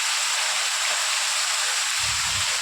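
Heavy rain with strong wind pours steadily as a dense, continuous hiss, with a low rumble joining near the end.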